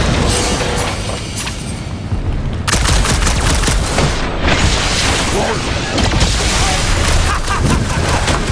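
Dense, loud bursts of sci-fi gunfire and blasts in a Marvel's Guardians of the Galaxy battle, rapid shots and booms stacking continuously, with a brief lull near the start before the barrage resumes.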